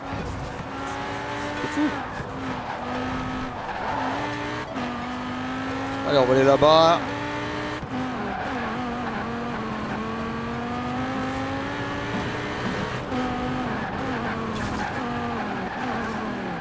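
Car sliding and losing grip in the Forza Horizon 4 racing game, with a steady engine drone and a brief louder tire squeal burst midway, heard under continuous French-speaking commentary.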